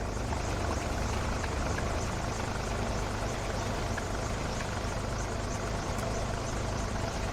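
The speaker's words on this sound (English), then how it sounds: "our helicopter is currently taxiing to position for the upcoming takeoff" A simulated helicopter in a flight simulator taxis to its helipad before takeoff, its engine and rotor making a steady, dense whine and thrum that holds even throughout with no voices.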